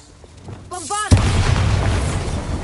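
The Bombarda spell in Hogwarts Legacy, a game, goes off as a sudden loud explosion with a sharp boom and rumbling tail, after a brief magical shimmer with tonal chimes, all close and dominant.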